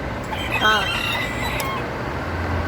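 A bantam chicken lets out a crow among soft clucks, with fowl calls rising briefly above a steady rustling farmyard background.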